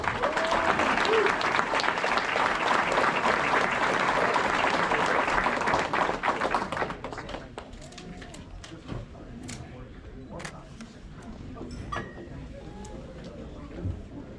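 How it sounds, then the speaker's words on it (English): A banquet crowd at White Mountain Motorsports Park applauds a race car driver, loud sustained clapping that fades after about six seconds into scattered claps under a voice over a PA. "Please give a round of applause for the driver of the 3 New Hampshire from Berlin, Daniel Brockman."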